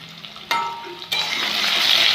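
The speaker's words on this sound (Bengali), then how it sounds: "একটুখানি নুন দিয়ে আলুটা ভেজে নেব" Potatoes fry in leftover fish oil with a pinch of salt, starting as a quiet sizzle and swelling into a loud, dense crackle as they hit the oil.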